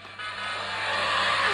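A toy car playing its recorded engine sound, a brief rising revving whine that grows steadily louder and closer over a second and a half.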